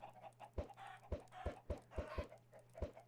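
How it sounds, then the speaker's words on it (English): Chickens cluck in short, irregular bursts close by, with a steady low hum underneath and no talking. "there's chickens there"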